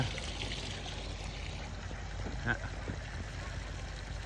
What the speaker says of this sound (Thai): สังเกตนะครับน้ำที่ลงมา